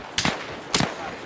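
Two sharp cracks of enemy gunfire in a Tarkov-like shooter video game mod, about half a second apart. They are moderately loud, with a short echo after each, and there is no talk over them.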